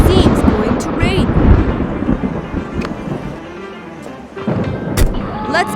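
Rumbling thunder from a storm approaching a dock, with wind and faint rain noise running throughout, low and sustained rather than a sharp crack, while voices talk over it.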